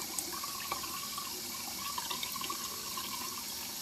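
Tap water runs steadily into a sink while a paintbrush is rinsed under the stream, a continuous close splashing hiss with faint clinks, no voices.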